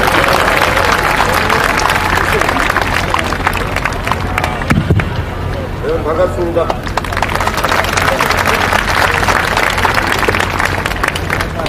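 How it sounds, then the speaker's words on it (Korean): Loud, dense crowd applause at an outdoor June Democratic Struggle commemoration on Seoul Station plaza, welcoming a newly elected party leader; clapping continues steadily throughout while someone speaks a greeting over it. "여러분 힘찬 박수로 맞이해 주시기 바랍니다."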